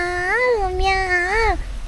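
A human voice imitates a cat's meow with one drawn-out, wavering, pitched mew of about a second and a half, close and clear, as part of a children's story.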